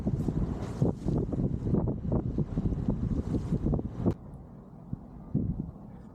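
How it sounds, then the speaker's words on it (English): Strong gusty wind of about 18 knots buffets the microphone aboard a sailboat on the English south coast, a roaring rumble dropping off abruptly partway to a quieter rush with occasional faint gusts. "Quite windy now. Blowing 18 knots."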